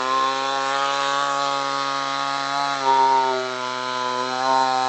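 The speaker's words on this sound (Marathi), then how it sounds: "हे जे लाकूड आहे ते कापून दाखवूया लाईव्ह दाखवूया की कशा प्रकारे हे काम करत आहे मशीन चालू करूया" A cordless battery chainsaw cutting wood, a loud steady high-pitched motor whine with a slight dip in pitch as the chain bites into the log.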